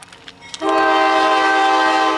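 A CSX freight train, the M200 from Chicago to Walbridge, sounds its horn loudly and close by: a sustained multi-tone blast starts after a brief moment of background noise and holds steady to the end.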